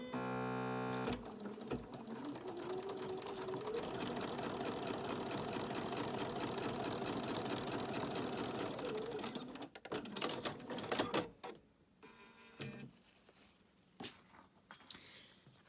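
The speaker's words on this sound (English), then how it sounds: "then you can just line that up and stitch down that line." A sewing machine stitching binding onto a micro mini quilt runs steadily and close for about nine seconds with a fast, even mechanical whir, then stops, followed by scattered handling clicks and rustles.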